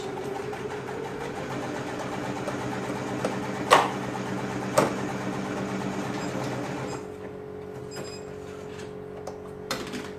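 A home sewing machine stitches the shoulder seams of a boy's tank top in white thread, giving a steady close motor whir with a couple of sharp clicks before easing off and settling quieter near the end.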